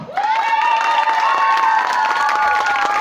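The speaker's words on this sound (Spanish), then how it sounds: "Aquí si el público aplaude voy," Applause and cheering from an audience at a venue's opening, steady and loud throughout, with a sustained high whistle-like tone ringing over the clapping.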